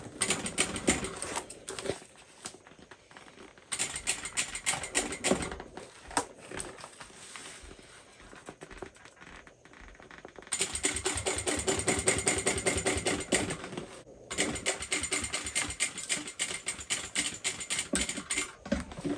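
A home sewing machine stitches the seams of a fabric Mr Heckles handbag in rapid running bursts, stopping and restarting several times as the sewn part is lifted, loud and close with no talking.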